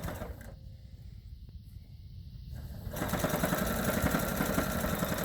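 A sewing machine stitches a quilt block at close range, starting with a quieter run and then settling into a louder, rapid, steady mechanical whir with a fast rhythmic needle clatter.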